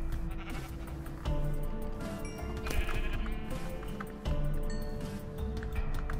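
Sheep in the Minecraft video game bleat repeatedly, the calls standing out over a busy layer of game sound effects and ambient noise, with no voices.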